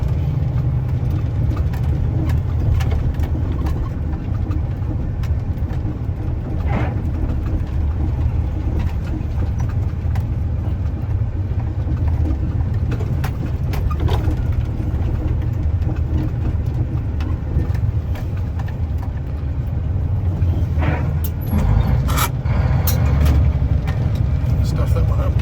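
A truck climbs a road through Sylvia's Gap with its heavy engine droning loudly and steadily, rising and dipping slightly as it works through its gears. Voices talk over the engine noise.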